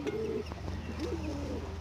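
A single domestic pigeon gives a soft, brief coo close by, quiet against low background hum.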